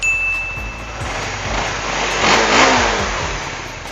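A 2017 Kawasaki Ninja 250 motorcycle engine idles close by and revs up briefly in the middle before settling back, rumbling steadily with no talking.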